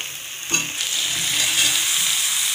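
Cleaned chicken pieces drop into a hot pan of pepper and green-chilli paste, cumin paste, turmeric and a little water for a Bengali chicken stew, setting off a sudden loud sizzle that settles into a steady close frying hiss, with no talking.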